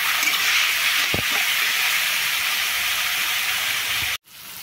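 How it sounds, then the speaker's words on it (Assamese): Bottle gourd peel frying with onion, turmeric and salt in an Assamese home kitchen, giving a steady bright sizzle with a couple of soft clunks, then a sudden brief cut near the end before the sizzle resumes. "সিজালৈকে ভাজি লওঁ।"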